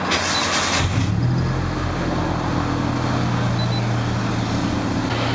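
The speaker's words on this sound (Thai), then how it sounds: "เรียบร้อยแล้วนะครับเดี๋ยวผมจะสตาร์ทรถนะ" A car engine cranks briefly and catches, then settles into a steady, close idle hum that carries on alone.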